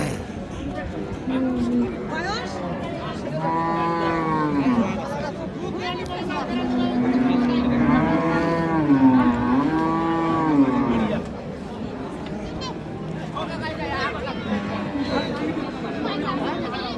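Sahiwal cows moo several times at the Ambari cattle market in Dinajpur. The long, drawn-out, rising and falling moos sound close and loud over the steady chatter of the market crowd.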